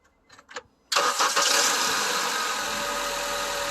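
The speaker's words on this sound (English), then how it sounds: "now we're gonna start the car to see if it runs great" A 2006-2011 Honda Civic engine cranks briefly and catches, settling straight into a loud, steady idle right after a PCV valve replacement.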